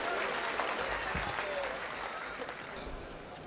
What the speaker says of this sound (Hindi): जोरदार तालियों से इनका अभिनंदन करेंगे।